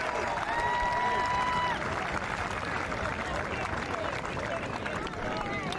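Rapturous applause from the gallery at the 2024 Amgen Irish Open's final round rolls on as a steady wash of clapping and crowd noise, with a commentator talking over it.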